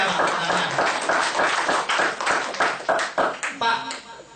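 An audience at an Indonesian business seminar claps in a dense burst of close-miked, fairly loud clapping that thins out toward the end, with some voices mixed in.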